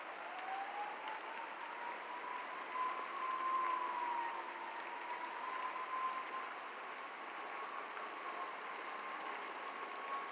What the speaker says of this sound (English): Sirens going somewhere today.